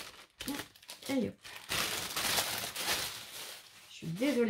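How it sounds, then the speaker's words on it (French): A plastic bag crinkles and rustles loudly up close for several seconds, with someone speaking briefly at the start and end. "Je suis désolée pour le bruit du sac."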